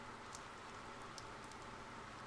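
Rain falls near a gas station in the Persona 4 video game, a soft, even hiss of patter with a few faint droplet ticks, quiet and continuous with no talking.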